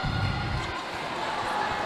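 Loud, dense crowd roar fills a gym during a 19-under basketball semifinal in Cebu City, with a brief low thump near the start and steady cheering throughout, unbroken by any voice.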